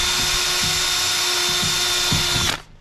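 A power drill runs steadily at full speed for about two and a half seconds during service of a 2004 EZGO TXT gas golf cart battery, loud and close, then winds down abruptly at the end.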